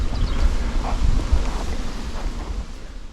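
Gusty wind blows through a forest during a bike ride, buffeting the microphone in rough, low rumbling surges that swell and ease over a few seconds, with no talking.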